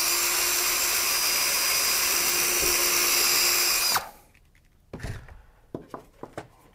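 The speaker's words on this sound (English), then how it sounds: "now I'll drill some pilot holes again" A power drill whines steadily at close range while boring pilot holes into a wooden birdhouse, then stops abruptly, followed by a few scattered knocks and handling thuds of wood.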